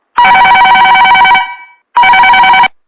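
Telephone ringback tone on an outgoing call to Lucknow: two loud, steady electronic rings, the first about a second long, then a short gap before the second, with no voices.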